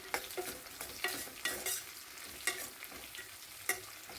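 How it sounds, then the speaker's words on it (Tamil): Beans, carrot and chayote stir-fried in a pan, sizzling softly with a series of sharp spatula scrapes at an irregular pace, fairly quiet and with no talking. "அதையும் நல்லா சேர்த்து நல்லா வதக்கி விட்டுக்கலாம்"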